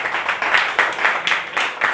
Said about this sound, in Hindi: ताली बजाओ प्लीज छोरे के लिए